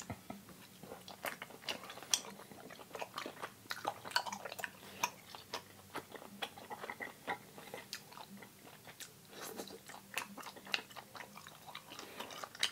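Someone chews spicy rice cakes in a vegan mukbang meal with chicken noodles and steamed dumplings, producing close, quiet, irregular wet chewing clicks and smacks in a steady rhythm throughout, with no speech.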